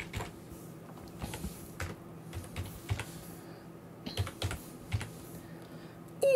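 Keys clatter on a computer keyboard as a bird ring number is entered into pigeon-breeding software, irregular clusters of close, crisp taps with short pauses between bursts.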